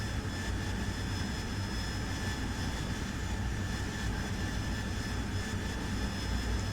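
A Harrier's Pegasus jet engine in the DCS flight simulator holds a loud, steady roar with a constant high whine on top, continuous and unbroken throughout.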